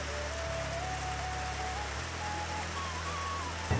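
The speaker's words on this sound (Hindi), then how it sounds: "शुरू हो गई बारिश।" Steady rain begins to fall outside a moving second AC train compartment, a dense even hiss over the low hum of the carriage. It continues alone without talk and sounds moderately faint.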